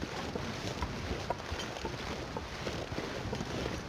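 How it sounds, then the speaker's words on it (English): Wind blows across the landscape in the survival video game The Long Dark, a faint, steady rushing with small gusty flutters and no talking. "Looks like it's going to be windy."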